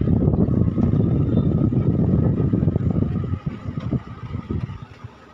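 A mini electric fan running on its third speed setting gives a steady, close whirring drone with airy rush, which eases and turns uneven toward the end.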